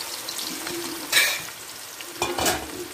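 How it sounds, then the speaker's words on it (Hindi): Onions hit hot oil in a pan and sizzle steadily, with a close, broad hiss that swells in two brief louder bursts, likely as the onions are added and stirred. "देखिए तेल गर्म हो गया, हम इसके अंदर प्याज ऐड कर रहे"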